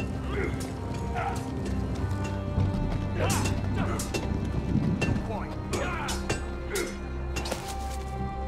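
Horse hooves clip-clop steadily in the video game Game of Thrones, with occasional clattering hits and a low droning background.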